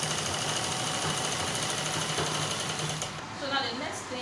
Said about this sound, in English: You stitch it all the way.